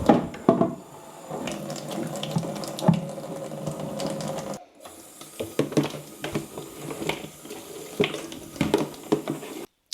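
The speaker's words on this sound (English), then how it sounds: "I'm just going to just wash the equipment generally with soap and water and give it a good rinse out" Water runs from a tap into a sink as homebrew equipment is washed with soap and rinsed, with a steady close splash broken by clatter and knocks of the equipment and a brief pause midway.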